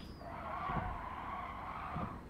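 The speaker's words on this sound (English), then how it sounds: "And the dank whistle of this car." A Formula E electric race car in the Gran Turismo Sport video game gives a steady, high electric whine with tire squeal, moderately loud and continuous over a short stretch.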